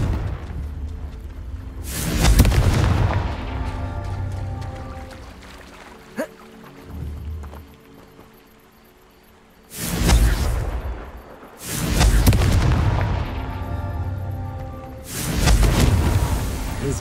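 Confringo blasting spells explode in Hogwarts Legacy: four heavy, booming blasts, each followed by a rushing tail, with quieter rumbling and a sharp crack between them.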